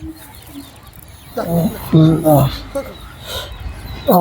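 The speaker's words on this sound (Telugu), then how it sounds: "ఇగో ఇవే మా నాటుకోళ్ళు ఫ్రెండ్స్" Native country chickens on a farm cluck and call in short bursts, close by and fairly loud, mixed with someone talking over them.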